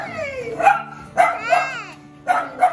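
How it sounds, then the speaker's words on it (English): A small dog barks in short sharp yips, three quick bursts spaced about a second apart, close and fairly loud with no talk over them. "Look, sis, a little dog."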